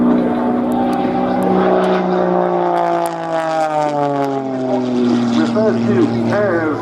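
A Pitts S-2S aerobatic biplane flies a display at Scampton. Its propeller engine note swells and falls in pitch as it passes, loud and continuous, while a commentator talks over it.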